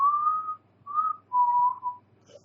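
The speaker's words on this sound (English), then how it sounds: "You know, we hear the famous whistle" A person whistles three clear, sustained notes with brief pauses between them, alone in a quiet space.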